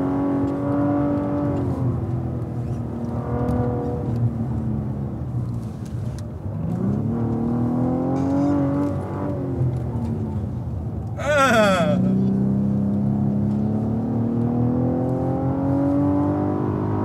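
A Cadillac ATS-V runs hard on a race track, its engine rumbling and rising through revs, with a brief high whine near the end, while people talk inside the car.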